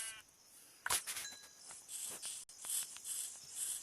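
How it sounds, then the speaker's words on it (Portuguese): Sheep bleating in Minecraft survival, a short burst near the start, followed by steady game ambience with chirping insects. No one speaks. "Uma ovelha aqui."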